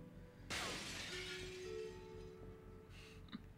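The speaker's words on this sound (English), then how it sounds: "It shattered beautifully" In the Lifeline video game a mirror is shot and shatters in one sudden loud crash, followed by glass shards tinkling and scattering for about two seconds before a faint final clink. Nobody talks.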